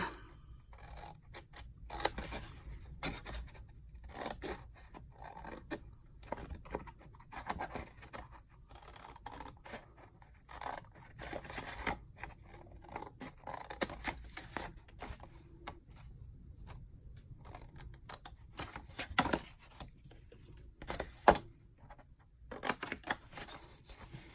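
Scissors cut through material in quiet, repeated snips and scraping strokes, close and faint, an irregular series of crisp clicks over about twenty seconds with no talking.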